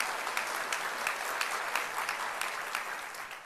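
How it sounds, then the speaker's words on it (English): Steady applause from the audience at a North Carolina US Senate primary debate, a dense wash of clapping, moderately distant and sustained. "give them a great round of applause"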